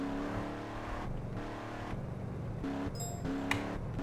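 A car engine in the video game Red County Roleplay drones steadily and fairly loud throughout, with a low rumbling hum and a few revving shifts in pitch, with no voices over it.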